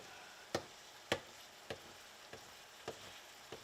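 A Bubba Blade knife rolls through stuffed bell peppers in a pan, giving six sharp, evenly spaced clicks and taps over a soft sizzle, fairly quiet and close.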